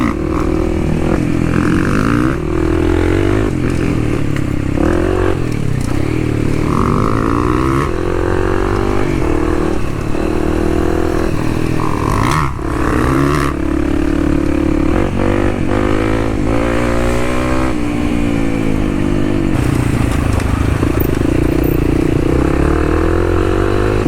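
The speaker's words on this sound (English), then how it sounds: "That Beta 300 two-stroke eats." A Beta 300 two-stroke dirt bike rides a rough trail at the Hatfield McCoy Trails, its engine loud and close, repeatedly revving up and dropping back with shifting pitch throughout.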